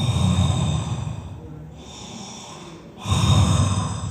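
A preacher imitates snoring with his voice, giving two loud, throaty snore-like snorts separated by a quieter breathy pause, close to the microphone.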